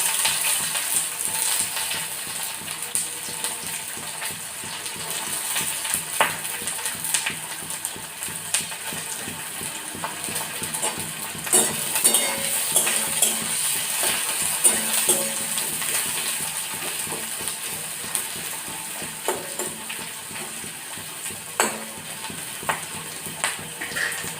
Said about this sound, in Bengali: এবার তেলটা গরম হয়ে গেলে পেঁয়াজগুলো দিয়ে দিলাম